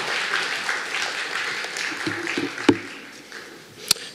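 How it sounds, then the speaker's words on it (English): An audience at a cultural talk applauds a speaker coming on stage, with moderate scattered clapping that thins out toward the end, followed by a couple of sharp isolated knocks. "give him all a round of applause"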